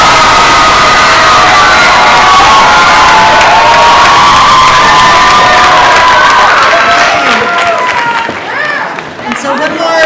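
A loud school crowd at a high school mock election cheers and shouts with scattered clapping, a dense roar of voices that thins toward the end.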